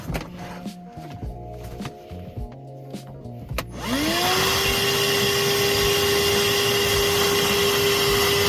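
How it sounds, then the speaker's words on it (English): Shop vacuum switches on partway through in a hot attic during AC condensate drain service, a loud steady whine and roar that holds unbroken after quieter shuffling and handling noises. "Uh-oh, vacuum is full."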